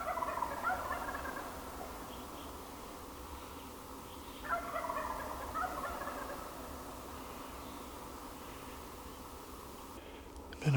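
Wild Merriam's turkeys gobble in the Arizona backcountry near their roost, with rolling gobbles at a moderate distance repeating and overlapping across the span over a soft outdoor background, with no speech.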